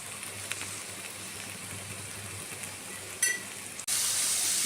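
Spices with salt and chili powder fry in a pan, giving a steady close sizzle with a few light clinks and a sudden louder hiss near the end.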